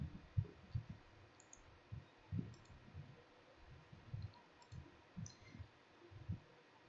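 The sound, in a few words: computer mouse clicking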